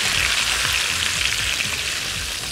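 Chicken pieces fry in a pan, giving a steady, loud, dense sizzle with no pauses and no voices.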